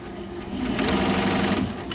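An embroidery machine stitches at a steady rapid pace, its motor hum and needle rattle close and continuous, running alone without talk.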